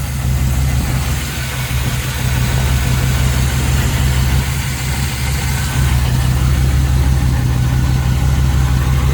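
A small-block 5.7 engine in a chopped 1934 Ford three-window coupe idles steadily with a deep, even low rumble, close and loud, alone throughout with no talking over it.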